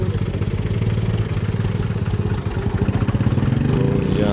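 A push-started tractor engine idles close by with a fast, even chug that steadies and grows slightly louder toward the end. No one speaks over it.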